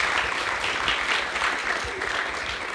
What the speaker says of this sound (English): can we also give another big round of applause, please, to young Athena for that amazing performanc